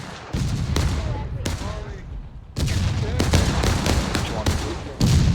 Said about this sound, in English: Artillery is really starting to dial it in, and Union Battery needs to probably return some fire